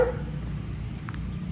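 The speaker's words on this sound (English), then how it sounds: "walking around here with the dog barking" A dog vocalises at a distance on a street near Miller Beach after a week of storms, faint short yelps over a low rumbling background.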